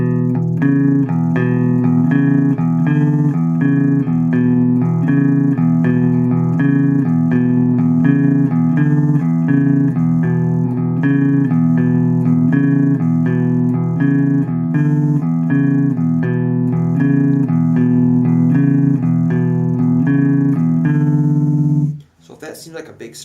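An electric guitar plays a steady, repeating beginner blues rhythm riff with an added flatted seventh. The chugging pattern runs continuously for about twenty seconds and then stops abruptly.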